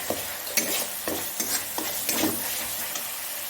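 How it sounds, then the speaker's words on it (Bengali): Carrots going into a Bengali-style veg jalfrezi with broccoli and spices, stir-fried in a pan: a steady sizzle with a spatula scraping and tossing in regular strokes about every half second, close and fairly loud. "এর মধ্যে আমি এবারে গাজরটা দিয়ে দেবো"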